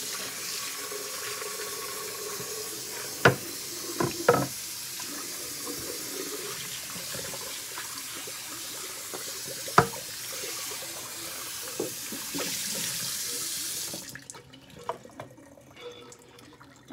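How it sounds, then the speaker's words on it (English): Water runs steadily from a kitchen tap while a bread pan is rinsed beneath it, a continuous close hiss with a few sharp knocks of the pan against the sink, before the flow shuts off near the end. "So let me rinse this out."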